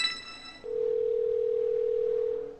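A mobile phone dial tone rings out as a call is placed: a steady, loud continuous tone holds for about two seconds after a brief noisy start, with no talking.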